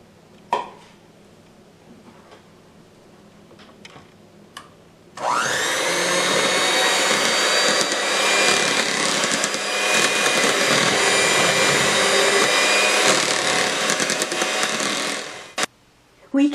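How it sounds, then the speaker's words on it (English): Electric mixer at low speed blending sweetened condensed milk for chocolate banana ice cream, switching on after a few light taps and running loud and steady for about ten seconds before stopping. "Mix both ingredients at low speed until well"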